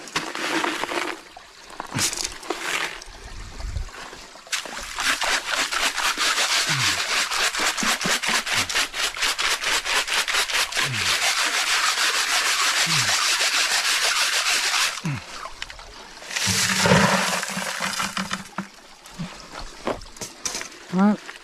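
Sapphire gemstones are rubbed and shaken to work sand out, giving a loud, sustained gritty scraping that runs for several seconds, pauses, then resumes in shorter bursts.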